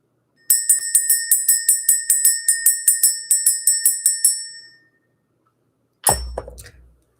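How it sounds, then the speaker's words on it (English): A small bell is rung rapidly and steadily, about twenty bright metallic strikes over four seconds that ring out and fade, followed by a sharper clanging clink after a short silence; no speech accompanies it. "We're going to ring the bell"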